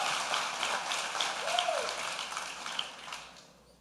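A church congregation applauding from their seats during a sermon, a dense, steady wash of clapping heard at moderate distance, fading toward the end.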